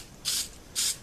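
An aerosol can sprays onto a tarp for stealth camping, two short, bright hissing bursts about half a second apart, close and clear against quiet background.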